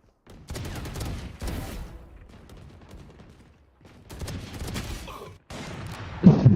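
Shooting-game gunfire rattles in several separate bursts of rapid shots, some sharp and close and others thinner, separated by short lulls.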